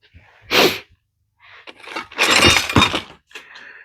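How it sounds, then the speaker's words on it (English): A single sharp sneeze bursts out from a person working on a 2001 Ford Focus ZX3, followed by a longer second sneeze-like burst and a faint trailing sound, all close and loud in a quiet garage. "I feel like I gotta sneeze."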